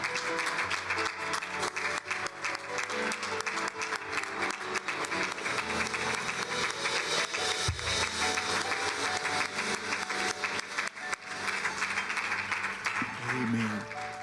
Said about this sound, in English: would you join me in giving a great applause of appreciation for all of our mothers?